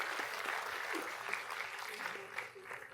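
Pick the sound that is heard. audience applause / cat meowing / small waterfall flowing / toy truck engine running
audience applause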